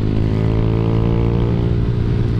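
A Raider J115 Fi motorcycle engine, fitted with a 57mm 8-hole injector, holds a loud, steady high-RPM drone with a tight buzzing harmonic whine. It is close and continuous throughout, with no talk.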